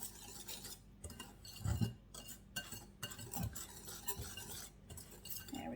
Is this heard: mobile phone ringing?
no